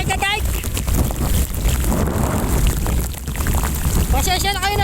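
Strong typhoon wind roars and buffets the microphone at a seawall dike on Manila Bay, loud and continuous, with brief sharp tonal bursts at the start and end.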